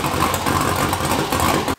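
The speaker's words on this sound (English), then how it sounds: "we actually had this beast running by itself, idling, under its own power" Turbocharged LS V8 idling on its own, a steady, loud, even rumble that holds for nearly two seconds before cutting off abruptly.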